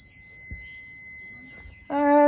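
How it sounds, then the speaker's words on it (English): A reverse parking sensor installed on a car sounds a loud, steady continuous electronic beep near the end, after a quiet stretch of faint background hum. "So now I'm close enough and there's a constant beep."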